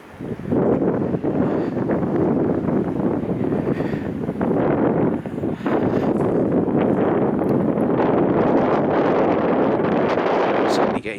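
Steady, loud buffeting wind roars across the microphone at Farleigh Hungerford Castle with little letup, a dense rumbling rush filling the whole stretch.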